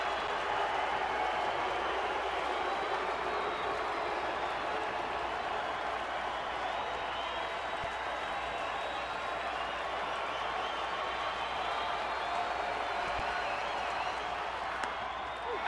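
A baseball stadium crowd cheers and applauds in a broad, steady roar of clapping and voices that holds without break, with a commentator's voice faintly over it.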